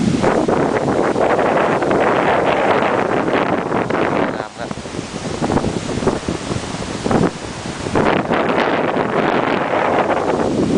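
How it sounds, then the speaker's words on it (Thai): Strong coastal wind buffets the microphone in loud, continuous gusts, with a brief lull midway, at Koh Pling in Sirinat National Park near Nai Yang Beach, Phuket, above rocks by the sea. "ช่วงที่ลมมาแรง"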